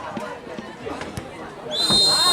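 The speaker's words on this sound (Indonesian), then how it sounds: "wasit telah meniupkan peluit panjang kick-off babak kedua" A referee's long whistle signals the second-half kick-off of an amateur cup football match, a high sustained tone rising over crowd chatter and field noise at the end.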